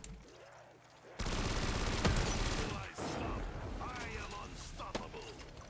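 Weapon fire in Call of Duty Black Ops 3 Custom Zombies: loud sustained rapid shots start abruptly and roll on for several seconds with mechanical clatter, while players talk over the action.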